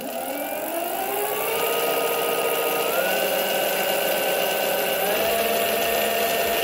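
An electric bike hub motor with a nylon gear runs on its own with no drivetrain, giving a loud steady whir with shifting tonal whine that rises and falls slightly, close and continuous throughout.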